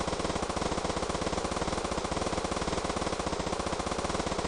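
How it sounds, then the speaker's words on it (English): Nonstop rapid gunfire from held-down shooting in the video game Santa's Monster Shootout, a dense, even machine-gun rattle filling the whole stretch at steady loudness with no pauses or voices. "I'm just going to hold down fire, so apologies for anyone who finds this sound incredibly annoying"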